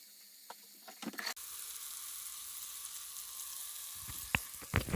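Tomatoes sizzling in a pot for beef pilau, a steady frying hiss that starts abruptly after a brief clatter, with spoon scrapes and stirring knocks near the end.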